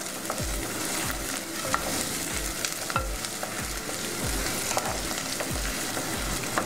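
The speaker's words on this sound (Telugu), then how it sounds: "వేయించిన రొయ్యలని ఇందులో వేసేస్తాను." Steady sizzling of prawns frying with chana dal in a pan, with a regular scraping rhythm of a spoon stirring through the mix.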